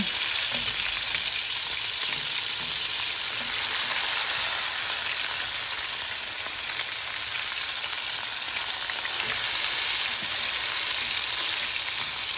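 Smashed burger patties sizzle on a hot griddle in a loud, steady, close crackling hiss that carries on without a break, with no voices.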